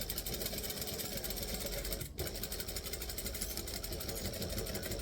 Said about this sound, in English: I'm just going to sew from the top and back stitch